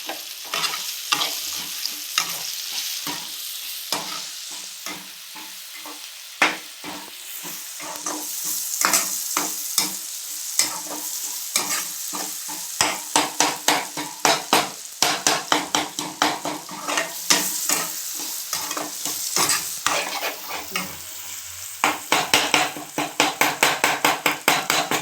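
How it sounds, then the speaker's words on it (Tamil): Tomatoes are mashed and stirred in a frying pan over a steady sizzle, with a spoon scraping and knocking against the pan in quickening repeated strokes, close and alone. "தக்காளி நல்லா குழச்சிக்கலாம்."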